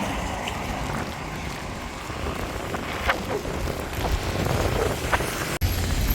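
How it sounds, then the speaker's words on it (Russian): Rain patters and wind gusts outdoors on a city street in Kharkiv, a steady, broadband wash with a few louder drops and buffets against the microphone, no voices. "Идет дождь, ветер."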